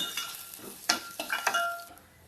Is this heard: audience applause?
no